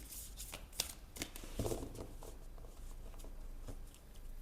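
A tarot card deck is shuffled and cut with soft flicks and patter of cards, faint and close in a quiet room, with no voices.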